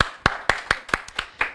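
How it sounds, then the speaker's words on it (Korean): Sharp, evenly spaced clapping at a marketing lecture: about seven crisp, close claps in a quick steady rhythm, each one distinct with short silences between them and no voices. "박수 한번 쳐주시죠."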